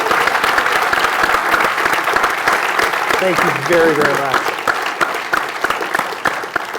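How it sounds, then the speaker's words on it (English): Loud audience applause at a construction industry global launch event, a dense sustained clatter of many hands filling the room while someone speaks a brief thanks over it near the middle. "How about just a huge round of applause for Fred for doing all of it."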